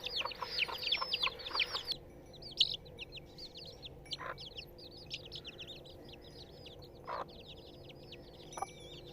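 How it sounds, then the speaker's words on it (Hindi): An Aseel breed hen clucks a few times amid a flurry of high, busy Aseel chick peeps, with the peeping thinning out as it goes on. "ये मुर्गी आप देख सकते हो माशाल्लाह से असील नस्ल की मुर्गी है"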